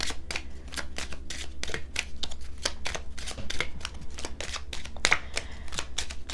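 Oracle cards being shuffled by hand in a steady run of crisp riffling bursts, close and fairly quiet, with no voices over them.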